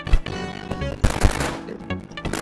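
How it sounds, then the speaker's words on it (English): Cannon fire in the video game FPS Chess, a dense burst of loud booming shots in rapid succession with heavy low thumps, close and dominant with no talk over it. "Shoot the other cannon."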